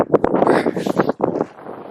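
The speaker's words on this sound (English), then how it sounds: "It's certainly windy out here." Gusty wind buffets the microphone on a snowy forest road in winter, loud rough bursts that rise and fall over two seconds before easing off.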